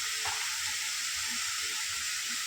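Onion masala, kala masala and spices are sautéed in a pan for dhaba-style whole masoor dal, making a dense, steady hiss of frying oil with faint low stirring knocks beneath, close and without talk.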